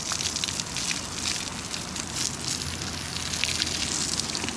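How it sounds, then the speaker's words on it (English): Water drenching rocks in a backyard RC crawler trail river section, a steady splashing gush that runs continuously with no talk. "So I'm literally just gonna drench this thing, all this rock"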